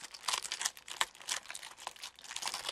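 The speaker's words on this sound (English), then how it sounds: "I love the crinkling sound, y'all." Packaging crinkles and rustles close up during an unboxing, a soft, continuous irregular crackle with small sharp bursts.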